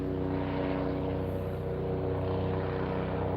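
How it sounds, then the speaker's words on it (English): A helicopter passes overhead, its rotor and engine giving a loud, steady low-pitched drone with a throbbing, buzzing tone that stays constant throughout. "there's a helicopter."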